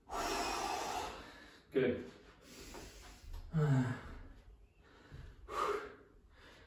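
Heavy, gasping breaths and sighs come in uneven bursts after a full-body home workout exercise, close and fairly quiet, with a brief word of encouragement spoken among them.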